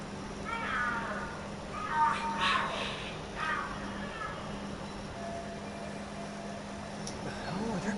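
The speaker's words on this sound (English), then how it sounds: "The hell are there cats fighting?" Cats yowl and screech in a fight within the video game Lost Judgment. Several wavering meows rise and fall over a steady low hum, with quieter stretches between the cries.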